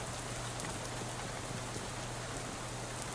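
Steady rain pours over an endless stretch of wet trees in the video game Shadows Over Loathing, a dense, even hiss that holds unbroken from start to finish with no voices.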